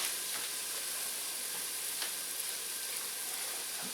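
A stick of butter melts in a pan over lowered heat, giving a steady, soft sizzle and fine crackle throughout with occasional faint pops.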